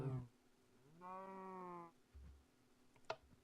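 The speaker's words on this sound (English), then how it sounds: "Okay, so there's a sheep" A sheep in the survival-crafting game Crash Landing lets out a single clear, drawn-out bleat of about a second, mid-loud and alone, with faint low game thuds after it.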